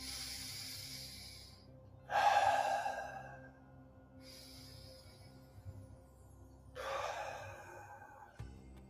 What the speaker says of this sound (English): take 3 deep cleansing breaths